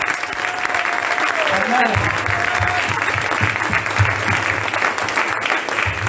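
Congregation clapping together at a church service, a steady wash of applause filling the room while a voice speaks over it.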